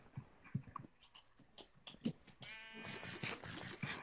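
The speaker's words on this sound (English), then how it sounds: "Sheep, get out of my house." Near the end, a Minecraft sheep gives a quavering, drawn-out bleat, preceded by a series of soft clicks and footstep-like taps at low volume.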